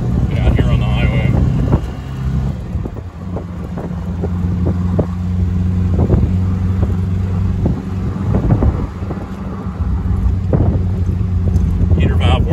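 A 1972 Fiat 850 Spider cruising on a highway, its engine droning steadily under heavy wind buffeting and road noise, with someone talking over it.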